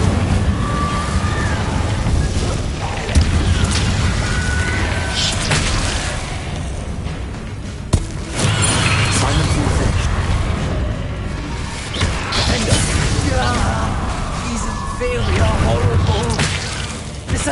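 A fiery Incendio spell blasts out in Hogwarts Legacy amid dense, loud combat noise with booming bursts, while voices call out over the din.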